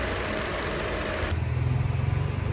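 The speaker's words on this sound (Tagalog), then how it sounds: "Sobrang tahimik ng makina." A 2023 Hyundai Stargazer GL engine idles with a low, even hum that steps up to a slightly fuller, throbbing note halfway through, heard close with no voices.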